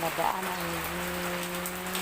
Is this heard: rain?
yes